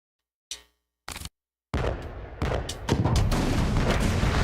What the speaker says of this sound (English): Avoid shipwrecked sharks, cannon fire, and mines.